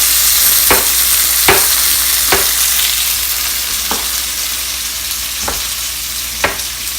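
Tomatoes and sauce sizzling in a pan of aloo tamatar potato curry, a loud steady frying hiss broken by several distinct spoon scrapes as the mixture is stirred.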